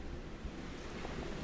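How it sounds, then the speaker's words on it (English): Ocean waves and wind at a noisy seaside home, a continuous broadband roar of surf and gusting wind, fairly close and steady throughout with no voices. "one reason a lot of people don't live by the ocean, because it's noisy"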